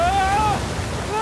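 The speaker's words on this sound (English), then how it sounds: "Waterfall!" Waterfall in the video game Uncharted 4 rushes as a steady, loud wash of broadband water noise, with faint voices and tonal game sounds over it.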